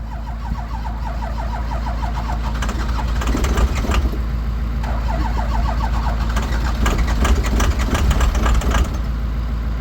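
A diesel engine cranks on its starter in the cold, catches and runs, its loud rough knocking idle steady and close throughout.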